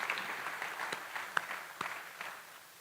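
Scattered, fairly faint applause fills a school auditorium at a senior honors assembly, with a few sharp individual claps standing out as the clapping thins and fades away.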